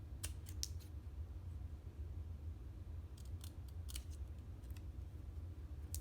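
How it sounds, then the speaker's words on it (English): Scissors snip paper for a stamped watercolor card banner, giving a few quick, faint cuts near the start and a scattered cluster later, over a steady low room hum. "just cut in the middle and then cut to the sides to the center."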